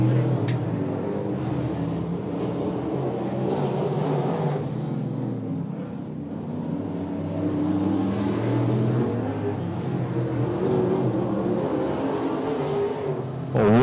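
Race cars lapping a racetrack in the closing laps of a race, a steady loud engine drone with rising and falling passes, under a commentator's voice throughout.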